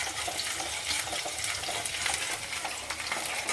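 Garlic sizzling in hot oil over a high flame for a chicken chilli dish, a bright continuous crackle and hiss close up, with faint stirring and no voices.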